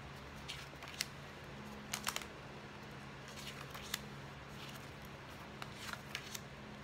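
Someone flips through a stack of double-sided paper journal cards, making scattered soft riffling flicks and light taps over a steady low hum, quiet and near, with no talking.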